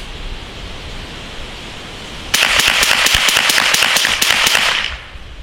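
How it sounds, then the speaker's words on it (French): A Hammerli TAC R1 .22LR semi-automatic rifle fires a rapid string of about ten sharp shots in roughly three seconds, loud and close, after a short stretch of quiet outdoor background. "c'est parti pour un petit tir dynamique"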